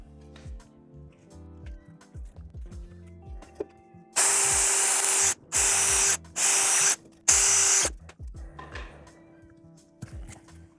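A power drill edge-drills F/A-18 side console parts in four loud, whining bursts of a second or so each, separated by short pauses, with light clicks and handling noises around them.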